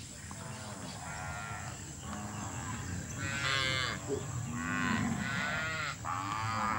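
Cattle moo in flooded Amazonian marshland, a series of long lowing calls that grow louder midway over a constant background hum, no speech.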